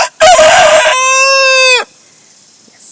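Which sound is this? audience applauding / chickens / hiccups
chickens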